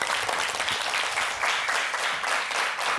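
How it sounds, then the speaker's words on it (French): A studio audience at a live French-language religious television show applauds loudly, a dense steady wash of clapping that holds at full strength for about three seconds with no voices over it. "On va applaudir très très très fort."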